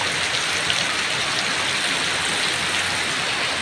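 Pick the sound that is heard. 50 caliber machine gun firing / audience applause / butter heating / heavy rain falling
heavy rain falling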